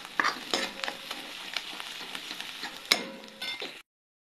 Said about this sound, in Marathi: आता मी इथे फोडणी दिलेली आहे